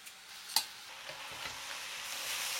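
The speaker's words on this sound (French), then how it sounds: "J'envoie tous les légumes que je viens de découper. Et je les fais bien revenir." Chopped vegetables for chili con carne sautéing in a pot, a soft steady sizzle after a sharp clack at the start, with faint stirring scrapes close by.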